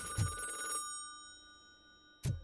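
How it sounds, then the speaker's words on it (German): Telephone ringing inside a video game, two short bursts of a bright electronic ring, one near the start and one at the end, with a faint steady tone between them and no talk. "Hier ist auf jeden Fall das Telefon."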